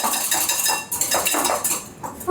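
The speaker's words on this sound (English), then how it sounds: "I like to give these an extra little whisk right before I mix them into my final batter." Egg whites are whisked in a bowl for a gluten-free hazelnut chocolate cake batter, a quick run of close, rhythmic clinking and scraping of the whisk against the bowl sides.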